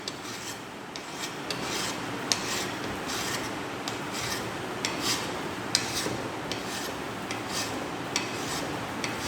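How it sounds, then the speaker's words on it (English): A hand file is pushed and pulled across a metal workpiece in draw filing, giving a steady, close rasping scrape with regular strokes and no talk. "So this is known as draw filing."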